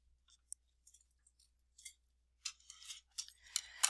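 Scissors snip through strips of tape beside a post-it note, a run of short crisp cuts growing busier and louder toward the end, with no voices.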